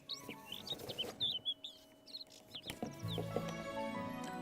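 Small birds chirp and tweet in quick, scattered bursts, fairly faint and close, with brief rustling and a low tonal background joining toward the end.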